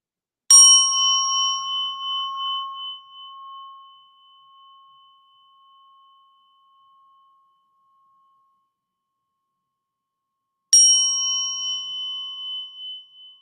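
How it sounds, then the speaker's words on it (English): A Buddhist prayer bell is struck twice, roughly ten seconds apart. The first stroke is bright and clear and rings out slowly over several seconds, and the second sounds just as crisp, alone in a silent room. "When you hear me striking the bell twice, that signals the end of our sections."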